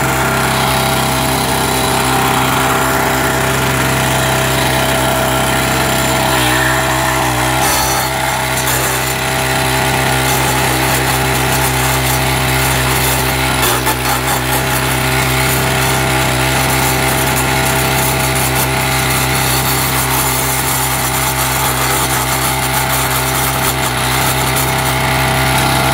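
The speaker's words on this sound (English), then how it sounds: "Notice how slow this thing is idling. I really love how slow it idles." Propane-converted Troy-Bilt 515 edger engine idles slowly and steadily, a loud close chugging drone with a rough pulsing rhythm that holds for the full length, no voices.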